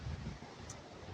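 Gusty wind buffets the microphone outdoors in a Copenhagen city street, a low rumbling roar that is strongest at the start and then settles into steady blustering, with no talking.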